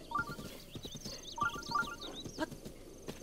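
A horse in the video game Zelda: Breath of the Wild makes quiet snorting and shuffling sounds, with short chirpy calls repeating over a soft, busy outdoor game ambience.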